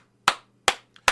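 Three crisp, separate hand claps land slowly and close-up at a talk show gathering, with a soft small tick between the last two, over a steady low background hum.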